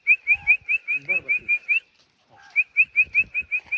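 A person whistling short, rhythmic chirping notes to make a dog dance, a quick run of about ten bright whistles, a brief pause with a lower note, then another run, close and clear.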